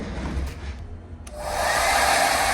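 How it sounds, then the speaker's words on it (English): A new heat blow dryer runs with a breathy whir that dips briefly and then swells into a steady, close, loud airy blast. "I got me a new heat blow dryer today"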